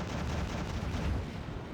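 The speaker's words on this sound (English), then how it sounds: "These artillery pieces, they do pretty bloody big explosions" Continuous, dense rumble of artillery explosions from the real-time strategy game Act of Aggression, booming blasts overlapping into a steady roar with no distinct gaps, moderately loud and heard without any talk.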